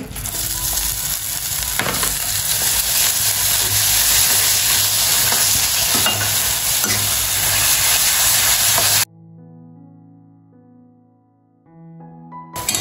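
Grated fresh coconut is stirred into jaggery melted in ghee, a steady close sizzle and scraping for about nine seconds before it drops to quiet room tone.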